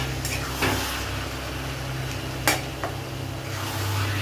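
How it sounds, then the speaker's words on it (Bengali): Hilsa fish head cooked with taro greens is stirred in a pan, a low steady sizzle broken by a few scattered scrapes and knocks of the spoon against the pan. "ভালো করে নেড়ে নেবে।"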